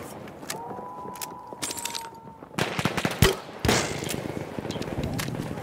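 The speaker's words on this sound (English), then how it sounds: "Enemy machine gun over there!" Machine gun fire in the video game Battlefield 1 on a battlefield, rapid bursts and sharp cracks building in the second half, mixed with clatter and a whining engine-like tone earlier.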